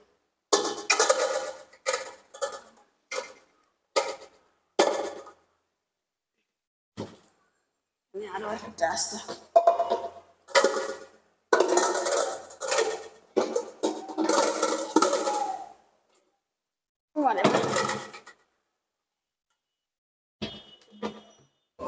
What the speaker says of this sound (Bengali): পাতিলগুলো তুলে ফেলি, পাতিলগুলো ধুয়ে শুকাই নিছি